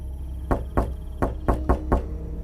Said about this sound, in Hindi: तभी बाहर जोर से दरवाजा पीटा गया।